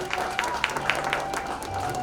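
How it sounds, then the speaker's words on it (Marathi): A crowd at a village gathering gives a short round of applause to welcome a guest, scattered clapping with a few louder individual claps standing out over a low murmur of voices. "सर्वांनी टाळ्या वाजवून स्वागत करायचे।"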